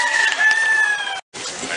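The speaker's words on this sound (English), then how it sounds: "It's chickens and turkeys, it looks like" Chickens and turkeys in pens at an indoor farmers market in Ephrata, Pennsylvania, with a loud close rooster crow stretching over a second, followed by clucking amid a busy hall.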